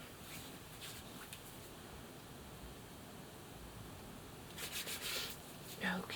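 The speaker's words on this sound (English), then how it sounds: "I, of course, like to rub any excess products on my neck" Skincare product being rubbed into the neck and hands with the fingers, a soft continuous swishing friction that grows slightly louder and busier toward the end, with no talking.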